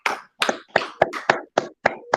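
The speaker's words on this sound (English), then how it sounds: "Clap it up" Hands clap alone at close range, eight sharp, evenly spaced claps at a steady medium pace with brief silences between them.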